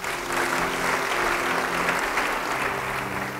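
A church congregation claps together in sustained applause during a sermon, a thick steady roar of many hands at an even level throughout, with no voices standing out.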